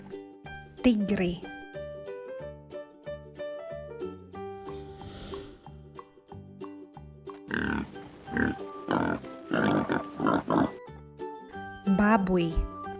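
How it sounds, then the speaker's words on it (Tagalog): A pig grunts and oinks in a run of quick, snorting bursts over steady background music, loud and close, with a few more grunts near the end. "Baboy."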